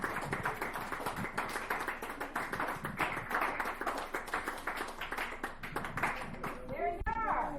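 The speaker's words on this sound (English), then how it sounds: "Go to the round of applause for Debbie Montgomery." Comedy club audience at a dive bar applauding comedian Debbie Montgomery: dense, steady clapping fills the whole stretch with cheering voices mixed in, and a voice rises briefly near the end.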